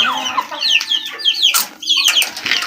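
A mother hen held in a bamboo enclosure clucks close and clear in rapid, agitated bursts, with sharp chirpy calls that come and go over a short span.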